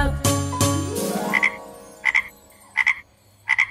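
Cartoon frogs croak in a children's counting song: two sharp thumps ring out with a falling tone, then four short paired croaks repeat at steady intervals, clear and close.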